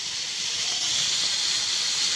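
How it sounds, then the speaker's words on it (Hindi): A pressure cooker on a stove, cooking chickpeas, lets out a steady high-pitched steam hiss, loud and continuous for a couple of seconds, with no voices. "कुकर को बंद करने के बाद हम इसे स्टोव पर लगभग 5 से 7 विसल्स लेंगे।"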